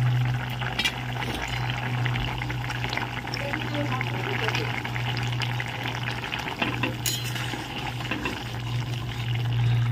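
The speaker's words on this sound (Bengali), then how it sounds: "এবার ঝোলটা দেখো ফুটছে, আমি এবার মাছটা দিয়ে দেবো" Mustard fish curry broth bubbles in a pot, a soft steady simmer with occasional clinks close by, and a low constant hum underneath.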